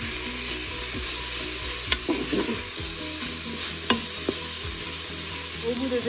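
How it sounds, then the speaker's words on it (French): Onions and garlic fry in olive oil in a Cookeo multicooker, a loud continuous sizzle with a few sharp clinks of a utensil stirring in the pot, no voices. "dans un fond d'huile d'olive, on va faire revenir les oignons."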